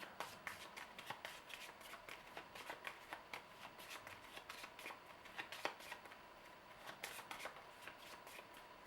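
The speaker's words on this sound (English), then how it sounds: "And we will shuffle the deck again" A Legendary Encounters: Alien deck-building game deck is shuffled repeatedly nearby, soft riffling bursts and crisp flicks coming in an uneven rhythm at low volume.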